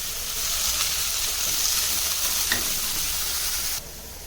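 Curry leaves frying in hot oil give a loud, steady sizzle and hiss, close and continuous, with a faint stir partway through before the crackle drops off slightly near the end.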